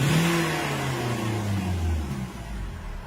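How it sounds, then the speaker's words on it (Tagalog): Car engine revving during an RPM check at an auto repair shop, a steady close mid-pitched roar with slowly falling tone that eases off near the end, no talking. "Try natin RPM kung malakas ba yung RPM natin."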